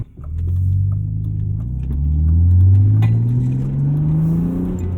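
A 260,000-mile BMW E36 M3's engine hums and rises through the gears as it drives along, heard from inside with steady road rumble beneath.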